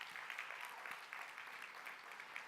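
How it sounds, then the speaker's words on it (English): Dinner audience at a call center awards banquet applauds the servers with steady, moderately distant clapping that holds evenly throughout without any voices. "It's okay to clap for them."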